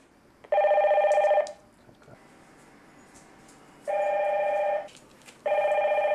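A household telephone rings in a home during housework, three loud, close bursts of electronic trilling separated by quiet gaps.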